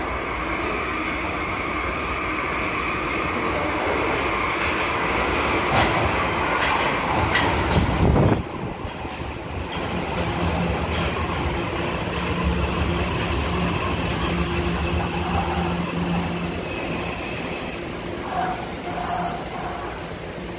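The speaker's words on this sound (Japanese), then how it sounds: "The local train bound for Hononjo is arriving at track 1" A Tokyo Metro Marunouchi Line train rumbles into Shinjuku station with a rising roar and a screech of wheels, then eases into a steady hum at the platform.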